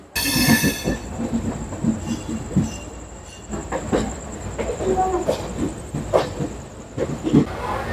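The Darjeeling Mail passenger train runs on rails near Barddhaman Junction, with close rattling wheels, rhythmic clicks over rail joints, brief squeals and a hissing rush, loud and continuous.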